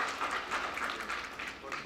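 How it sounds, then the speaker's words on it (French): Symposium attendees applaud in a hall, a steady, fairly faint wash of clapping with a soft rhythmic texture and no clear speech. "Je vous demande de vous applaudir."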